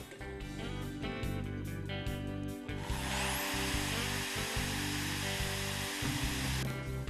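A power drill bores into wood through a Wolfcraft tecmobil drill guide for a few seconds, its broadband grinding whine rising over steady background music, then stopping as the music continues.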